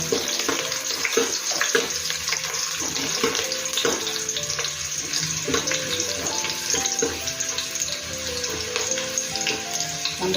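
Onion frying in a pan with bay leaf for a Malvani-style dish, a continuous loud sizzle and hiss close by, with bubbling crackle holding steady throughout.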